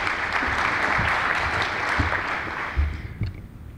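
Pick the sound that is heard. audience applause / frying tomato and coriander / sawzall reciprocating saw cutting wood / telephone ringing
audience applause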